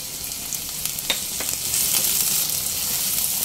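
Chopped green chillies fry over low flame with ginger, garlic and onion, a steady near sizzle punctuated by a few sharp stirring clicks and scrapes, rising slightly louder midway, with no voices.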